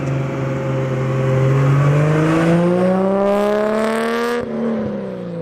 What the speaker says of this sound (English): here's a clip how it sounds just driving by